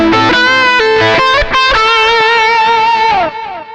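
Electric guitar through a Tech 21 Richie Kotzen RK5 v2 Fly Rig, used as an overdrive boost, playing a loud, sustained distorted phrase with several bent notes and a held final note.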